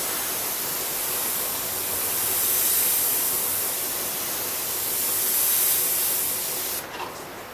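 An airbrush sprays paint around a round mask to form a sun or moon, giving a steady close hiss of air and paint that swells slightly and holds for about seven seconds, then cuts off abruptly.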